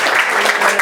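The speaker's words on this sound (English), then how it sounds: "Let's give them a round of applause." Dense crowd applause at a Brooklyn political gathering with Conservative Party members, a loud, even wash of many hands clapping in a brief burst.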